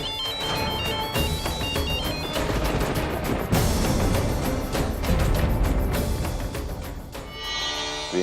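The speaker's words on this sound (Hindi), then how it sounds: "फोन आ रहा है।" A ringtone chirps repeatedly at the start, then gets buried under loud, dense music and percussive hits.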